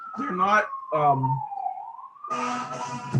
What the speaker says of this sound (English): if you can hear that siren